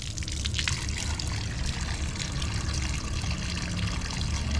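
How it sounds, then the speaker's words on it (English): Yellow, sulfur-tasting drinking water runs from a tap in Santa Barbara, Iloilo, Philippines, a steady broadband trickle and splash that continues without pause for a few seconds, close and moderately loud. "There's your drinking water right there."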